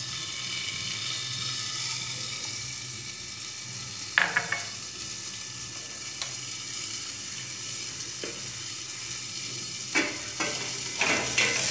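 Cauliflower frying in a pan gives a steady, close hiss of sizzling oil, broken by a few sharp clicks and taps from stirring utensils.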